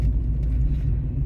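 Steady low engine rumble and road noise inside a moving car on a short drive to a nearby village in Corsica, continuous and fairly loud, with no talking.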